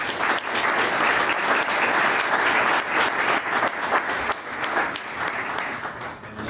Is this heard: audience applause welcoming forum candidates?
yes